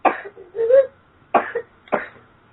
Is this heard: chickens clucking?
no